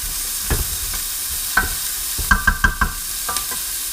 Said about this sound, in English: Gently give those a little stir.